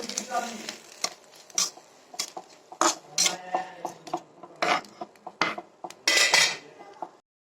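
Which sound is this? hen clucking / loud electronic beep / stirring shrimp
stirring shrimp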